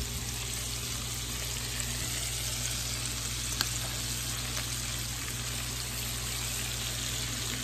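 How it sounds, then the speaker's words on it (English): Spaghetti sauce with sausage simmering in a pan, giving a steady soft sizzle and bubbling throughout at low volume, with no talk. "here I'll be leaving this for about 15 minutes to simmer"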